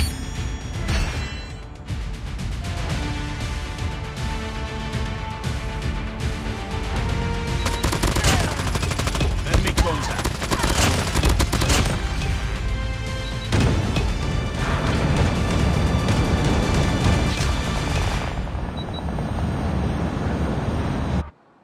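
Bursts of rapid automatic gunfire and explosions fill a Call of Duty Mobile domination match, loud and dense throughout over a continuous roar of game music and effects, ending abruptly.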